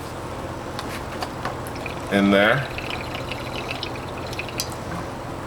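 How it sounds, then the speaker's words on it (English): Water is poured into a cast iron pan during cleaning in a backyard, making a brief splashing fill under a man's speech. "then I put another round of water"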